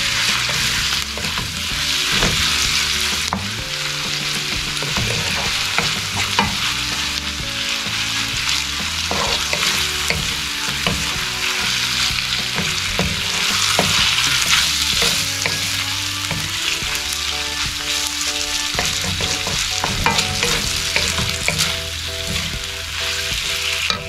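Marinated beef sizzles in a hot pan for a vegetable sauté, a loud continuous frying hiss broken by the repeated scrape and clatter of a utensil stirring, with no talking.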